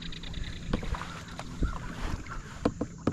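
A kayak paddle dips and pulls through calm water at sunrise, with soft irregular splashes and drips over a light wind rustle and faint outdoor ambience.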